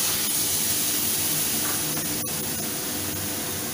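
Tomatoes hit a hot pan for a low-oil parwal and potato sabzi, giving off a steady, broad sizzling hiss that holds at an even level throughout, with a faint click partway through.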